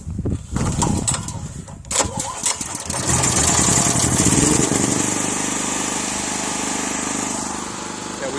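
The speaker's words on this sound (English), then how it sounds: "which will allow the generator to start" A portable generator engine cranks with a few rough pulls and sputters, then catches and settles into a loud, steady running hum close by, with people talking over the start.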